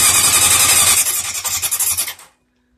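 A 1980 Honda CB750 motorcycle engine cranking on its first start attempt after carb cleaner, a loud, close, squealing whirr with rough pulsing that fades out after about two seconds without catching.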